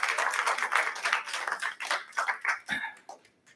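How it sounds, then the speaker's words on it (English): A church congregation applauds its new council members at a Sunday service, a dense burst of many hands clapping that thins to a few scattered claps and fades out. "let's give all the new council members a round of applause"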